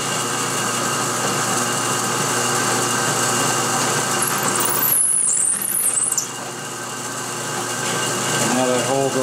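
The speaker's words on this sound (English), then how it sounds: "and finish drilling from the other side." A power drill whines steadily under a constant motor hum while drilling a gun's bolt hole, with a brief high squeal midway as the bit bites, then the pitch drops and recovers.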